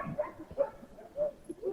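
Working sled dogs at a kennel in Denali National Park and Preserve give short, repeated barks and yips, four or five bursts spread across the moment at moderate distance.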